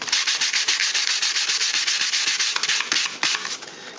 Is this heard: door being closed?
no